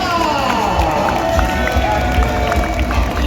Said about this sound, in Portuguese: Uma salva de palmas para o Tetsuo Kurata.